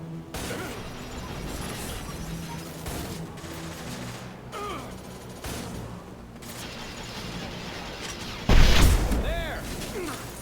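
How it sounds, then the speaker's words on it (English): Enemy machine gun fire in Mass Effect 2, a steady rattling barrage with mechanical clatter running throughout, topped near the end by a louder crashing burst. "These guys must have machine guns or something."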